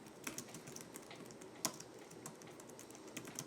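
Quick, uneven key clicks from a computer keyboard being typed on, close and fairly soft, with one sharper keystroke standing out midway and no voices.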